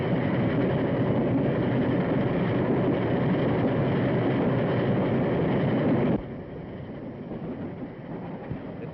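A train in an old John Wayne film serial rumbles along steadily on the rails with a dense, continuous roar, then abruptly drops to a quieter, thinner rolling sound.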